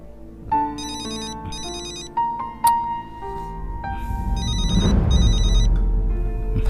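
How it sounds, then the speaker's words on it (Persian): A mobile phone ringtone plays as a melodic electronic tune with repeated bright beeping bursts, loud and close, over a steady background of music or room noise. "باز دکتر سنم زنگ زده."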